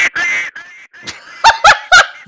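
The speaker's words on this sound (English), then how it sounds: "That is a loud duck." A duck gives loud, harsh honking calls close by, a couple of drawn-out squawks followed by three short sharp honks in quick succession, with brief silences between them.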